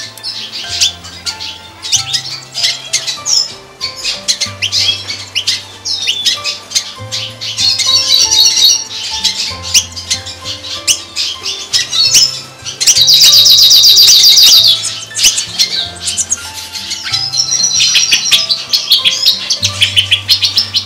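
Siskin fledgling out of the nest, fed by its mother, giving loud, rapid chirps and tweets in dense overlapping bursts, including a sustained high trill, with no talk.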